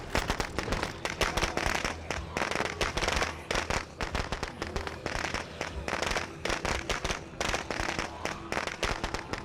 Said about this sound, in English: I'd throw another firecracker there